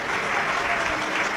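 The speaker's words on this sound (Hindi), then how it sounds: "एक बार आपके लिए भी जोरदार ताली बजाकर साधुवाद।" Loud, steady applause from a large audience at a live Shiv Mahapuran katha religious discourse in Sehore, Madhya Pradesh, dense clapping sustained evenly throughout without pause.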